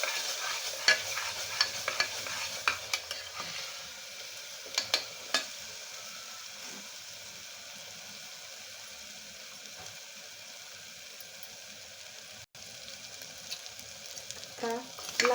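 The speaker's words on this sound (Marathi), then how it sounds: "लाल मसाले आपल्याला परतून द्यायचे थोडेसे तेलावरती।" Red chili and coriander powder masala fries in a little oil, a soft continuous sizzle with a cluster of utensil scrapes and taps early on and again near the end, otherwise fairly quiet.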